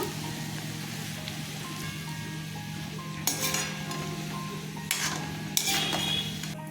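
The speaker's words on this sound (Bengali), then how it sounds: "চিড়ে ভাজাগুলো হয়ে গেছে" Flattened rice sizzles steadily in hot oil while a metal utensil scrapes and clinks against the pan a few times, while making chanachur.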